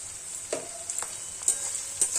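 Onion frying lightly in a pan, a steady soft sizzle with occasional stirring clinks and scrapes, close and moderately quiet, with no talk.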